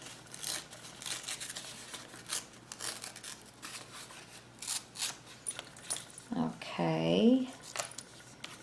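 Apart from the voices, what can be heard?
cutting paper ephemera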